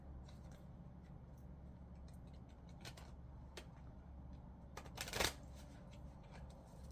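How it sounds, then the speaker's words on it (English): Osho Zen Tarot deck being shuffled, quiet papery riffles and taps building to one sharp burst of cards flicking together, near and alone in a hushed room. "That was a strange shuffle."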